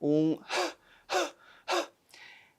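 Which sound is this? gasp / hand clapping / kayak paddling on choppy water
gasp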